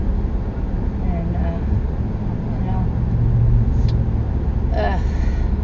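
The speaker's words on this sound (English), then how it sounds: "while I'm sitting here in traffic." Steady road traffic heard from inside a car stuck in a jam, a constant low engine and road rumble with occasional passing-vehicle swells, under a person talking throughout.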